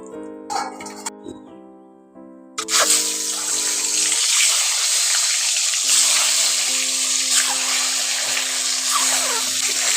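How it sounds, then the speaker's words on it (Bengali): Eggs drop into hot oil seasoned with salt and turmeric and begin frying, a sudden, steady sizzling hiss that holds close and loud while soft tonal music plays underneath. "লবণ আর হলুদ দিয়ে তেলটাকে ভালো করে গরম করে নিয়েছি। এবার এর মধ্যে ডিম আগে দিয়ে দিচ্ছি।"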